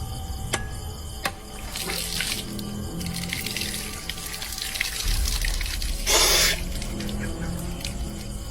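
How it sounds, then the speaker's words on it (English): Water from a broken coconut splashes and trickles over a man's face during a ritual washing ceremony, a close, steady wet pouring with a brief louder gush near the end. "breaking a coconut open and letting the water splash over the man's face"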